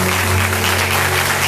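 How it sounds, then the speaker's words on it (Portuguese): A church congregation applauding during a sermon, a loud, steady wall of clapping with a low hum beneath it. "Você pode aplaudir o Senhor?"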